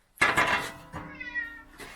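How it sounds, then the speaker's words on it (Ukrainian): A cat meows a few times at close range in a workshop where a tractor hood is being repaired, with a loud first call followed by softer, drawn-out cries. "Так, кіт дебіл, блін, прийшов."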